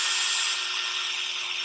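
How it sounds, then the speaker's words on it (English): A power drill boring holes into a small plastic toy figure, a steady continuous high-pitched whirring grind held close up and loud with no pauses, no voices. "So we're gonna drill holes in him"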